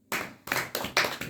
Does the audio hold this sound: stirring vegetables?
no